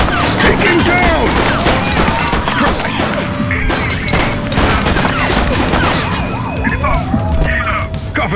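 Police gunfire in The Precinct rattles in rapid bursts amid wailing sirens and crashes, loud and chaotic, with shouted voices mixed in.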